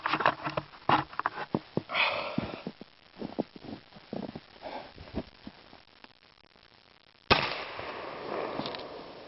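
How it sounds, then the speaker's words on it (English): A .410 shotgun fires once at stacked 2x4 boards from about ten feet outdoors; a sharp, loud blast follows scattered rustling and small knocks, its echo fading after. "410 strength test, firing 1 at 10 feet."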